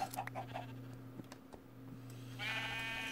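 Sheep bleating in the Minecraft video game: a quiet background at first, then a steady, buzzing bleat that lasts about a second near the end.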